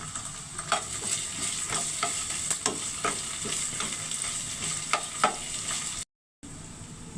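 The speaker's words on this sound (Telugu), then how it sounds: "ఉల్లిపాయ ముక్కలు రంగు మారాయి అల్లం వెల్లుల్లి పేస్ట్ వేసాను" Sliced onions and ginger garlic paste fry in a pan, with a constant close sizzle punctuated by a rhythmic series of spoon taps and scrapes as it is stirred, then a short silent break.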